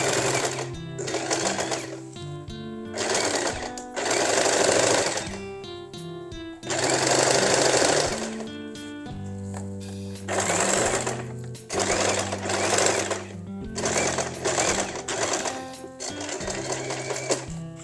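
A sewing machine stitches an elastic waistband in repeated loud runs of fast mechanical whirring, separated by short pauses, close up and with no talking.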